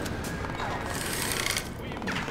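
Rapid gunfire bursts from the video game Crysis 3, dense and continuous through a battle scene, with a voice talking over the shooting.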